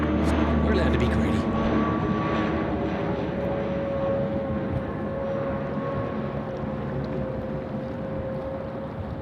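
An aircraft arriving on the runway at Sydney Airport gives off a steady, loud jet roar that holds and slowly eases over nine seconds, with voices talking over it.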